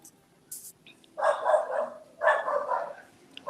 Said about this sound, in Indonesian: Ada yang menggonggong itu.